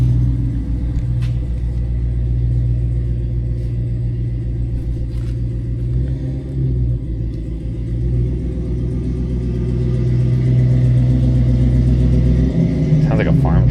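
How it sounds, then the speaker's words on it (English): Ram 6.7L Cummins diesel engine idling steadily up close after fitting a Hamilton cam and head studs, a deep continuous rumble with a faint ticking running through it, alongside a nearby voice. "Sounds like a farm truck with that freaking ticking going on."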